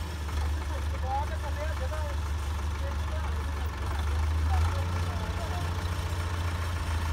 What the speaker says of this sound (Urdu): ہمارے ٹریکٹر منگوایا تھا اپنا